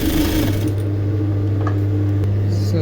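A sewing machine runs steadily and close up as ruffles are stitched onto a long sleeve, with a continuous motor hum and fast rhythmic needle clatter throughout and no voices.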